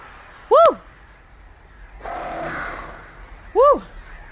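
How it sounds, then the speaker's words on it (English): Crows cawing and swooping to attack in the video game Alan Wake: two sharp, loud harsh calls about three seconds apart, with a rushing, flapping burst of noise between them. "Oh no! It's the birds!"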